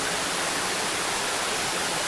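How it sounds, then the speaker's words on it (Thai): A stream beside the temple at Wat Mae Kampong near Chiang Mai rushes in a loud, steady, broadband wash of flowing water with no breaks and no voices. "มีลำธารไหลสองด้าน ด้านขวาของอุโบสถนะครับ"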